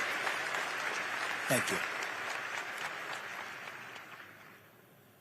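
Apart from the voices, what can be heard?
audience applause for the governor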